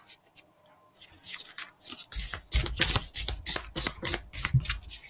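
Tarot deck shuffled by hand in a series of crisp riffling and slapping bursts, fairly close and growing busier after the opening seconds, with no talking over it.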